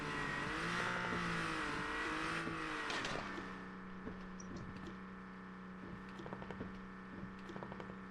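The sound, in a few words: vehicle approaching in video game Garena Undawn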